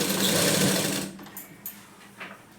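A sewing machine stitches the back of a blouse in a short, loud burst of rapid needle whirring that stops after about a second, followed by faint scattered clicks and handling noises.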